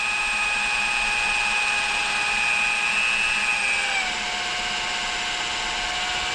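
A power drill spinning the dynamo of a Rolls-Royce Springfield Phantom I whines steadily at a constant high pitch, then its tone shifts and drops slightly partway through, spinning continuously with no talking.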